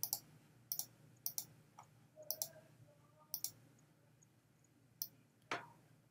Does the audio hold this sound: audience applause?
no